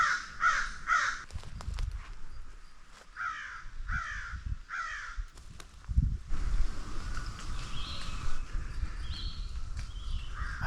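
A crow caws in short repeated bursts, loud and close, with rustling and soft footsteps on leaves between the calls.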